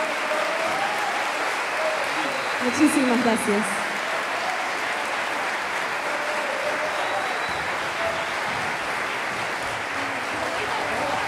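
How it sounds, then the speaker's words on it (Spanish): Audience applause after a tango trio performance with bandoneon, a steady dense wash of clapping that fills the room and runs throughout, with a brief burst of voices partway through and a short spoken thanks. "Fuerte el aplauso para mis hermosos compañeros."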